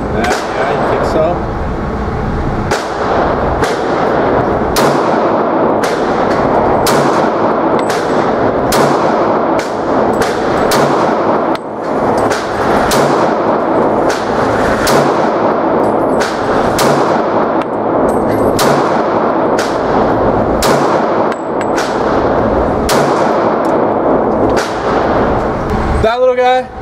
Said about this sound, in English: You're anticipating the boom and you're jerking the gun down.